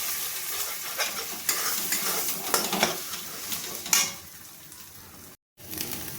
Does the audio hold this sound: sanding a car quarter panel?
no